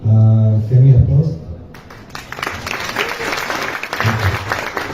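Audience applause at the closing ceremony of State of the Map Asia 2024, a dense clapping crowd rising after a brief stretch of talk and filling the rest of the moment steadily, fairly loud and near.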